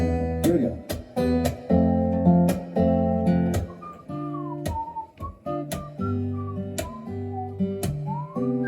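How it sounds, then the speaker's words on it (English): A person whistles a tune during a live music set in Washington, D.C., with bright wavering notes over a loud bass-heavy band groove and sharp percussive hits. "One more whistle."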